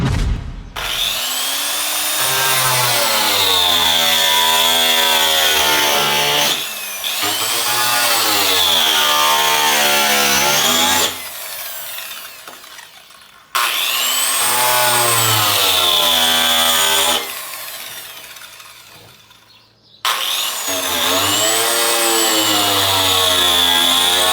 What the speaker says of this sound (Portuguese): a hora que vocês estiverem cortando, vocês vão ficar virando a máquina para achar uma posição